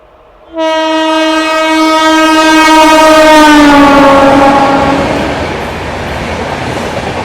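A Humsafar Express train blasts a loud, sustained horn close by as it passes, the steady tone holding for several seconds and slowly dropping in pitch, with a continuous rumble of the moving train beneath.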